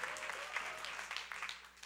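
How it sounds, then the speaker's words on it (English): A talk audience answers with brief, scattered clapping that is fairly faint and sounds distant in the hall, lasting under two seconds. "You can clap, I can't really see hands."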